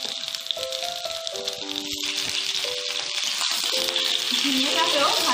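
Ridge gourd stir-fried with potato and ginger in a pan gives off a steady, loud sizzle and rattle that builds over the clip, with music playing underneath.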